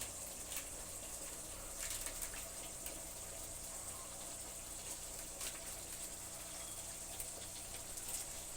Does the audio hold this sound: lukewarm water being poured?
yes